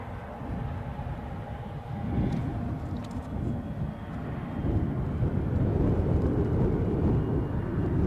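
A Boeing 737 MAX 8-200 airliner taxiing at Edinburgh airport in stormy crosswind weather, giving a steady low engine rumble and roar that swells slightly louder partway through, heard alone at moderate distance.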